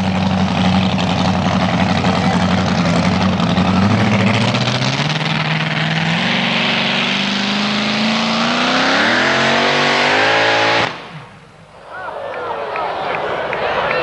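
A 1200-horsepower pulling tractor at a 1996 tractor pulling event in Sottrum roars loud and steady, its pitch climbing as the engine revs hard, then cuts out abruptly when the motor stalls, leaving faint crowd ambience.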